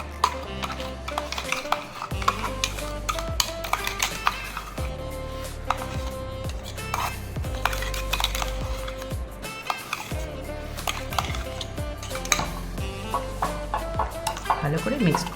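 Spice paste is mixed into chicken marinated with turmeric and salt, producing continuous spoon-and-bowl clatter and stirring under prominent background music, with some talk.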